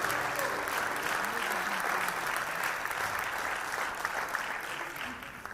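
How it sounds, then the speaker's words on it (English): Sustained audience applause for a chairperson at a youth crime prevention gathering in eThekwini, KwaZulu-Natal: dense, steady clapping from a large crowd, fairly close, holding level before easing slightly at the end, with no speech over it. "Let's give the chairperson a round of applause."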